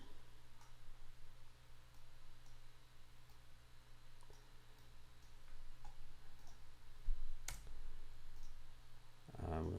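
Soft, faint key taps on a computer keyboard while typing text in Photoshop, a few sparse clicks over a steady low hum, with one sharper click near the end.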